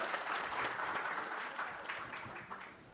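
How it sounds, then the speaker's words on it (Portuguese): Audience applause welcoming a speaker at a software developer talk, a brief, fairly faint burst of clapping that fades out. "Palmas para o Luiz, então."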